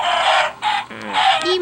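Blocky Minecraft chickens cluck in a short, loud series of bright, close bursts with brief gaps between them, the game's fowl sounds standing alone with no voices over them.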